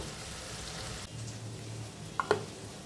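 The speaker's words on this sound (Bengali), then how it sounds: "পেঁয়াজগুলোকে নরম হওয়া অবধি ভেজে নেব, খুব লাল করব না।" Onions seasoned with a little salt fry in a pan with a steady, soft sizzle, broken near the end by two quick metallic clinks, probably a spoon against the pan.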